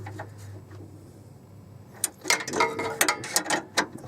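A wrench turning the middle starter bolt on a 1991-96 Chevrolet Caprice, 18mm size, gives a burst of close, uneven ratcheting clicks and metallic taps after two seconds of quiet hum.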